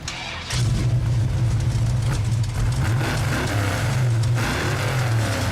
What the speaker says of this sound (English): The nasty, raw, powerful, mean, big block Mopar. It's the way it's supposed to sound.